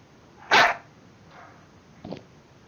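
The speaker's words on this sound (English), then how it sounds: "Fucking dog is so loud." A loud dog bark bursts out sharply, followed by a fainter second yip about a second and a half later, against a quiet background with no talking.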